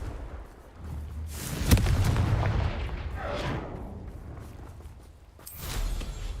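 A Confringo spell cast in Hogwarts Legacy bursts into a loud explosive boom with a sharp crack, then a long rumbling decay and a second rushing blast near the end.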